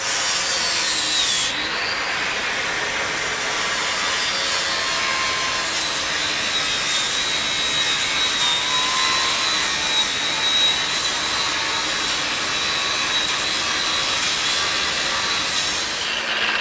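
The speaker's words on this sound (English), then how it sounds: "what a fantastically creative tool the angle grinder is" An angle grinder cuts through metal in a shed, a loud continuous high-pitched whine and grinding roar that holds steady from start to end, close by.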